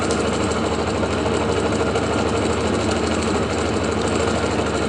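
A pulse motor with 2 inch magnets runs at 31 volts, giving a loud, steady, close mechanical whir with a fast pulsing buzz that holds constant throughout.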